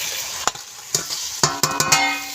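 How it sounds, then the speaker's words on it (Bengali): Prawns fry in a wok, giving a constant sizzle broken by several sharp clanks and scrapes as a utensil stirs them, close and fairly loud, with no talking. "এই কড়াইতে দিয়ে দেবো চিংড়ি মাছ ভাজা।"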